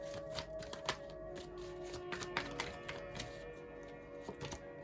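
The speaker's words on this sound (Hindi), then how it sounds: "और कार्ड लेते हैं, एक और कार्ड लेते हैं हम।" Tarot cards being drawn and handled, with soft, close, quiet flicks, taps and shuffling snaps repeating irregularly.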